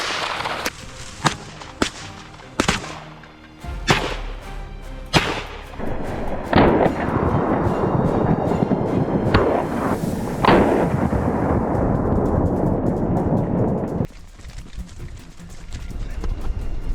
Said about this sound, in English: As soon as they entered our line of fire, we pulled the trigger.